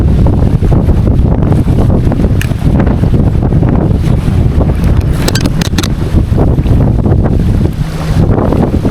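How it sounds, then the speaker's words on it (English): Strong wind over Red Willow Lake in McCook, Nebraska buffets a kayaker's microphone with a loud, continuous low rumble that sounds like a motor running, with gusty surges and splashy water noise throughout. "It was the wind that made that motoring sound."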